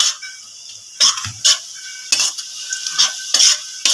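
Onions frying in hot oil in a pan on high heat, with a continuous sizzle broken by several sharp scraping stirs of a utensil against the pan at irregular intervals, close and fairly loud.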